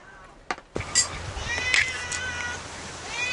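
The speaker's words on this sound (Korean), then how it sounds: "덕분에 애물단지 고양이 두 놈까지 호강을 하네요." Two domestic cats meow several times in short, rising calls close by, heard over a quiet room with a few clinks and soft background noise.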